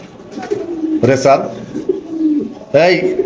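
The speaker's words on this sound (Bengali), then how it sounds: "একদম কত না চমৎকার একটা কবুতর আছে" Pigeons coo at close range in a pigeon farm, with a few louder, throaty bursts, while a person talks over them.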